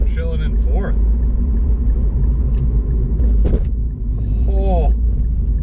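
Steady low rumble from a Mazdaspeed 6 on 19-inch wheels wider than factory, with completely blown-out rear shocks, cruising in fourth gear; continuous road drone fills the cabin with brief voices over it.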